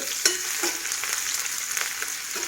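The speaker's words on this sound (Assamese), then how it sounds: "মই ৰিফাইন আৰু পিঁয়াজ ভাজি লৈছোঁ, ৰিফাইন গৰম কৰি" Onions sizzle steadily in hot refined oil, a bright continuous crackle with a few sharper pops.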